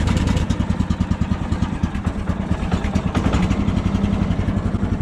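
A portable sawmill's small engine runs at a slightly raised idle, with a rapid, even chugging pulse that holds steady and close throughout.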